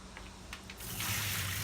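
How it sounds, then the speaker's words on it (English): Water drains from soaked black lentils being prepared for dal makhani, starting as a sudden steady rushing pour partway through after a brief quiet moment, close and fairly loud. "So I'm going to drain the water."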